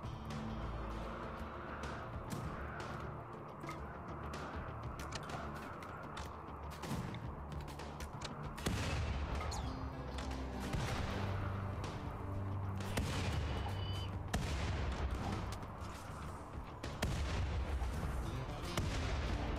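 Gunfire in the video game RimWorld, a continuous stream of sharp shots and crackling bursts over a dense game soundscape, steady and fairly loud throughout.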